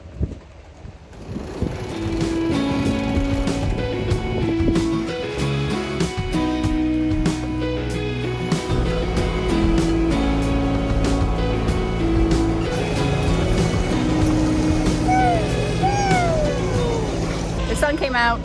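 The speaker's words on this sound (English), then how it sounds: "there's no wind, so we've got the engine on" A sailing boat motors under engine power on a windless day, heading toward an island; a steady low engine drone runs throughout beneath talking voices.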